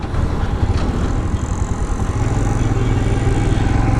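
A Royal Enfield Himalayan BS6 motorcycle from 2021 accelerates hard through the gears on a test ride, its steady engine note rising in pitch, loud and close, with broadband road and wind roar.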